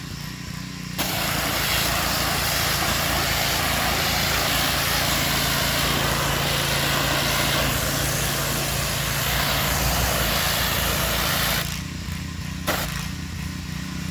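A pressure washer rinses a fence with a loud, steady roaring hiss over a humming motor, spraying continuously for about eleven seconds before cutting out briefly and starting again.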